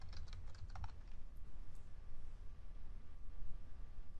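Computer keyboard keys tapped while entering code, a quick burst of close clicks early on that thins to sparse, faint taps over a steady low room hum.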